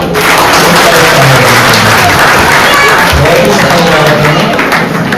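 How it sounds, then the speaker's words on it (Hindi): Loud, continuous applause from a crowd at a community program held by a goldsmiths' service council, with a dense wash of clapping over a murmur of voices throughout. "इस सफल कार्यक्रम के आयोजन के लिए कम से कम तालियां जरूर बजा के"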